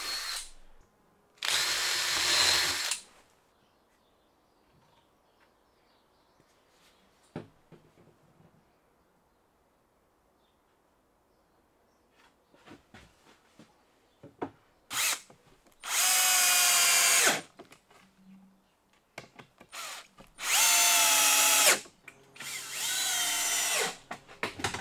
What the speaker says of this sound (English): I'm going to get a countersinking bit, put in the drill, and get these glued and screwed together